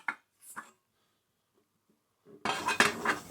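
Metal Svea 123R cookset pots and frying pan clink as they are stacked together, a few brief knocks and then a louder rattle of nesting cookware.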